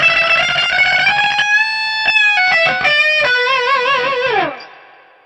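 Electric guitar through a Runbarr with distortion engaged plays a fast, ringing run of sustained bent notes, then fades out near the end with no talking over it.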